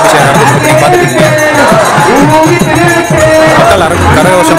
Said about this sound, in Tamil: மக்கள் கரகோஷம் பார்த்தீங்கன்னா அரகரம் ரொம்ப ரொம்ப அதிகமாக இருக்கு